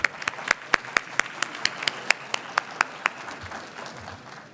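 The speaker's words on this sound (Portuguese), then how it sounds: "Por gentileza, uma salva de palmas." Applause from the audience at a real-estate registry officers' conference talk: a moderate scattering of individual claps with sharp, separate hits, steady then thinning out over a few seconds, with no speech over it.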